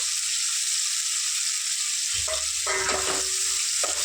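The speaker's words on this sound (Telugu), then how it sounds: "ఇప్పుడు ఉల్లిపాయలు వేసుకున్నామండి" Six small onions fry in hot oil with whole spices such as fennel seeds. A dense, even sizzle fills the pan, and a brief burst of stirring and clattering comes near the end. Nobody talks.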